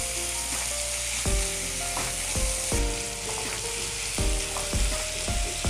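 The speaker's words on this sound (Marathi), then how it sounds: "तर याला 2 मिनटं ना चांगलं परतवू द्यायचं, याच्यामध्ये चांगलं भाजू द्यायचं आहे." Onion and tomato fry for Maharashtrian besan pithla, crackling and sizzling loudly in a pan, with repeated scraping stirs of the spoon at regular intervals and no talking.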